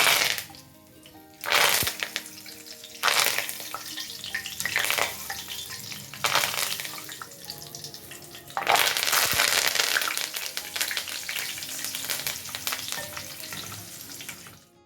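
Loud, steady sizzling of curry leaves on their stems frying in hot oil, with sharp crackling bursts when they hit the pan and continuous spattering throughout.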